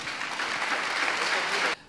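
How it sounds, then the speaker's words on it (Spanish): Brief burst of congregation applause during a sermon, dense and steady before cutting off abruptly near the end, with voices mixed in. "Denle un aplauso fuerte al Señor"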